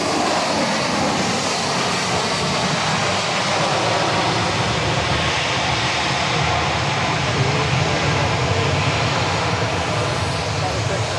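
Airliner at Dallas Love Field, likely a Boeing 737, roaring loud and steady on the runway at night with broadband jet engine noise throughout.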